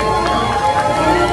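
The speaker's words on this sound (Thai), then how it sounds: "ขอเสียงปรบมือให้กับทุกท่านที่อยู่ด้านบนเวทีอีกครั้งนึงฮะ" Applause from the audience at a clinic grand opening inside a Chiang Mai shopping mall: steady, dense clapping and crowd noise, loud and continuous throughout, with no voice on top.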